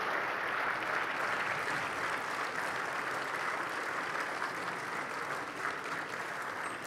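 An audience applauds continuously at a presidential summit as heads of state leave the hall, a dense, even wash of clapping lasting several seconds.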